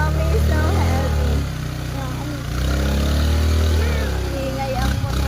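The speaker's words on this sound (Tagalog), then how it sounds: "Ingay ang motor eh." A motorcycle engine runs loud and close throughout with a steady low rumble that dips briefly before returning, while people talk over it.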